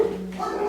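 Charlotte the dog gives a short, close, fairly loud whine that holds briefly and then rises in pitch, with no talking.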